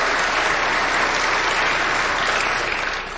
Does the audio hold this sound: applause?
yes